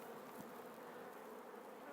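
Honeybees inside a hive give off a steady, dense buzzing drone that holds evenly and fairly quietly throughout.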